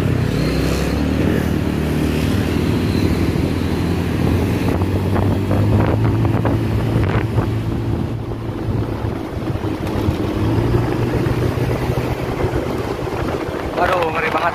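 Upgraded older Honda Vario 125 scooter on a night test ride in the rain, its engine droning steadily alongside heavy wind buffeting throughout, with a rider's voice talking briefly over it.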